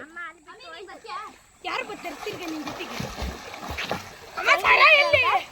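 Children swim, splash and play in water, with bursts of splashing between excited young voices and chatter throughout.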